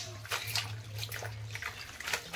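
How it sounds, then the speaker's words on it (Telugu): Water pours into a wide bowl of leafy greens such as gongura, fenugreek and spinach for washing, a soft, continuous splashing and trickling, faint and close, with someone talking over it. "ఆకు మునిగే వరకు నీళ్ళు వేసుకుందాం"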